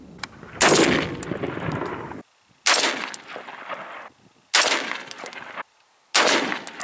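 A Diamondback DB10 rifle fires its first rounds, giving four loud, sharp shots spaced roughly two seconds apart, each followed by a ringing echo that decays before the next.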